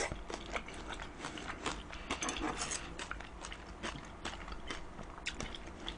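Crispy scorched rice (nurungji) is chewed close to the microphone with quiet, repeated crunches and bites in an irregular rhythm, with no talking.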